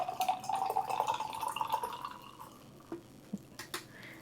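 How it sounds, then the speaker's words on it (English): Canned water is poured into a jar, a soft gurgling trickle with a rising pitch as it fills, then a few faint drips and taps at the end, quiet and close. "I got this water from the UK at the hotel and it's canned water. And I'm just gonna pour it in my jar."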